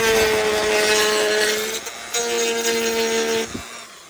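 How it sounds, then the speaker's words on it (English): A rotary tool with a sanding drum whines at a steady high pitch, cutting out briefly and restarting, with gritty sanding noise over its hum, while fitting LED taillights to a Mercedes R129. "get your sanding drum."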